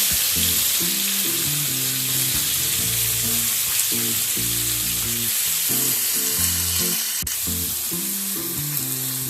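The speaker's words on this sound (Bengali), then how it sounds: "আমি 3টে মিডিয়াম সাইজে স্লাইস করে কেটে রাখা পেঁয়াজ অ্যাড করে দেবো" Three medium sliced onions hiss and sizzle in hot oil with whole spices for an egg pulao, a loud, steady crackle with music playing underneath.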